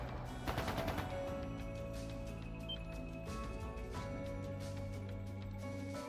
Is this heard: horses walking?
no